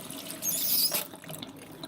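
A sink faucet in a horror movie scene gives a short, bright metallic squeak with a rush of running water. The sound then drops away into near silence.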